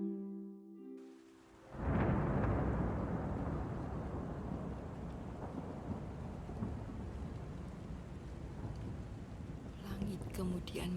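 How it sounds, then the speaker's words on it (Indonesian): Thunder in a night thunderstorm breaks with a loud crack and then rolls into a long, deep rumble over steady rain. "Langit kemudian menggelegar"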